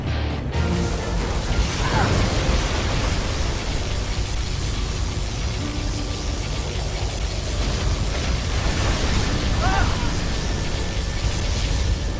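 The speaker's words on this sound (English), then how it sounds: "Particle cannon activated." A heavy, roaring particle cannon blast in Command and Conquer: Zero Hour rumbles on steadily, dense and loud throughout, with faint background voices.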